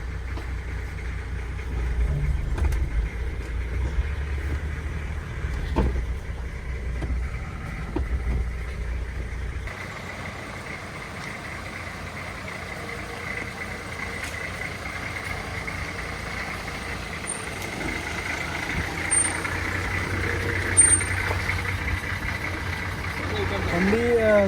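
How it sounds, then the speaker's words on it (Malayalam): A 1989 Nissan Patrol runs with a low, steady engine rumble that holds throughout, with a shift in tone partway through as it is moved, under ongoing talk. "നമുക്കൊന്ന് വണ്ടി ജസ്റ്റ് മൂവ് ചെയ്തിട്ട് തിരിച്ചതേപോലെ തന്നെ ഇടാം"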